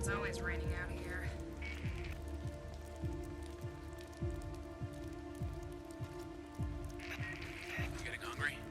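Steady rain pours down in the open-world survival game Days Gone, a constant hiss beneath game music, with footsteps and occasional voices talking over it.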